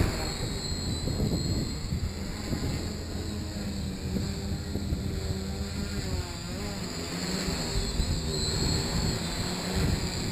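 A KK2-controlled quadcopter flying with its motors whining steadily, the pitch wavering as the throttle and yaw change, fairly loud and continuous against background noise.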